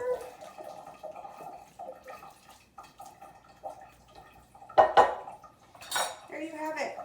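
German potato salad being stirred in a bowl, with a few soft clinks and scrapes of a utensil, then a louder clatter of cutlery against dishware near the end.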